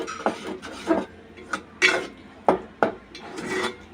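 A roasted rice flour mixture for coconut laddu is stirred in a pan over medium-high heat. A spoon scrapes the pan in a run of irregular, fairly close strokes, with no talking.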